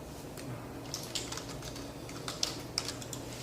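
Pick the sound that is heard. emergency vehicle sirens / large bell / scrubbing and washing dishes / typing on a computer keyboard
typing on a computer keyboard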